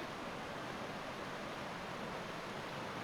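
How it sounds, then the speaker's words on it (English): Creek water running down toward Leura Cascades in the Blue Mountains, a dense, steady rushing wash with no breaks, close and even in level, no voices. "It's nice to hear water flowing"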